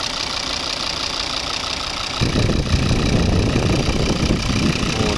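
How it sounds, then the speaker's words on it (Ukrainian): A 2011 Volvo V50 2.0 D3 five-cylinder diesel engine idles close by, a steady low rumble with a slight knock that grows louder and rougher partway through. "Ось він цей знаменитий двигун. П'ятициліндровий."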